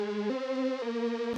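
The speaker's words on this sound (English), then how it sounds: "all this was some sine waves that I have that are very stereo, and I'm distorting them a bit and adding some chorus" A distorted, wide stereo sine-wave synth layer with chorus, made for melodic drum and bass, plays a few sustained tones that step between pitches, buzzy with rich harmonics, alone and steady.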